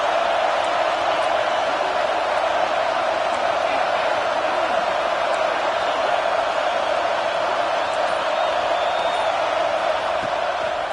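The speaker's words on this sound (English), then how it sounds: "this crowd is at fever pitch" A stadium crowd in a Madden football video game keeps up a steady, dense roar of cheering during a third-down play in the red zone, a continuous wash of noise with no clear breaks.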